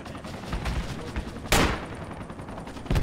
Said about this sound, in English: We're shooting now